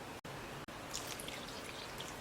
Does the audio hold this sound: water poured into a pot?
yes